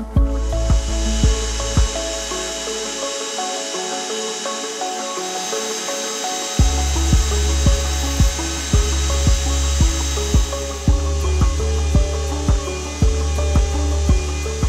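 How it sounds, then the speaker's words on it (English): Designs being carved into wooden lantern side pieces with a power carving tool: a steady whirring buzz marked by regular sharp ticks, which briefly thins out partway through before resuming at full strength. "you want to carve the designs into the sides and front and back pieces"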